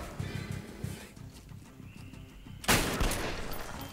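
Sniper gunfire in the video game Metro: Last Light: quick tapping shots at first, then a loud, sharp blast near the end that rings out briefly.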